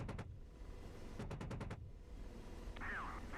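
In DCS World, enemy gunfire comes in two short, distant bursts of rapid shots: a brief pair of rounds, then a quick string of about six. A faint wavering tone follows over a steady low engine rumble.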